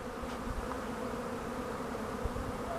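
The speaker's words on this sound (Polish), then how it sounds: "Dość energicznie te pszczoły Zula wyskoczyły." Honeybees buzz steadily as they fly out of the hive on a mild midwinter day, a dense continuous drone of many insects close by with no talking.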